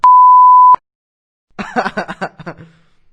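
A single loud, flat censor bleep lasting under a second, followed after a pause by someone chuckling and laughing softly.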